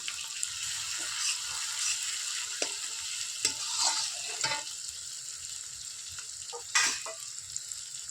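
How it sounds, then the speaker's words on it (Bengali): Chicken frying in a pan with chilli paste, being stirred: a soft steady sizzle with scattered scraping and spoon clinks, near and moderately quiet, no speech. "এবার লঙ্কা বাটাটা দিয়ে দেব দিয়ে নাড়াচাড়া করে নেব"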